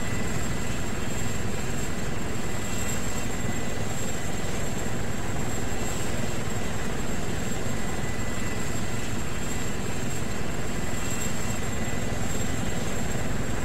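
Helicopter in the PC survival game DayZ Epoch on the Chernarus map, a loud continuous rotor and engine drone holding steady throughout with no talk.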